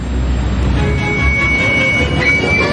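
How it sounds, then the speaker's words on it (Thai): An iron ore freight train runs along its own private railway, with a steady loud rumble of wheels and cars and a thin metallic squeal over it, continuous and nearby. "แร่เหล็กดิบ ถูกส่งจากกองเก็บและเทลงไปในรถไฟ แต่นี่ไม่ใช่รถไฟปกติของคุณ"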